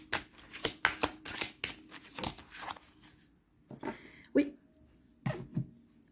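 Cards from a Mystic Woods oracle deck being handled and drawn, with a quick run of crisp, close riffling taps followed by softer sliding and a few sparse flicks, all quiet and nearby.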